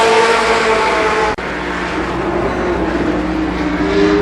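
Race cars roar past close and loud in a steady, dense engine drone as a heat race at Columbus Motor Speedway nears its finish, with a brief sharp dip in the middle of the continuous racket.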